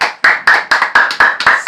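Pupils in a classroom clap their hands in a quick run of about seven sharp, loud claps in an uneven rhythm, close by with no talk.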